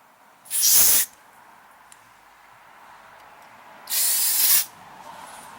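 Brake cleaner sprays into the carburetor of a Troy-Bilt TB160 lawnmower with a Honda engine in two sharp, loud hissing bursts, each under a second long, separated by a quiet pause.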